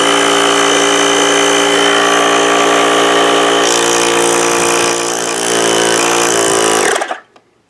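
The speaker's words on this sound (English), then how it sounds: "If I hit the pump button over here, I gotta hold that down." A LokiThor ApartX air pump runs with a loud, steady motor whine and buzz close by, holding constant for several seconds before cutting off abruptly near the end.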